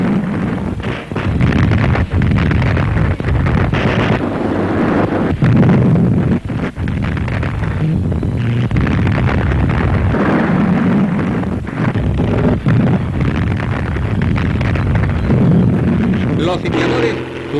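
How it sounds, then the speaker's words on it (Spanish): Heavy artillery bombardment from cannons and explosions during the Spanish Civil War siege of the Alcázar, with continuous booming and bursts under a steady narrating voice throughout. "se inició un machaqueo continuo de artillería desde todos los ángulos posibles"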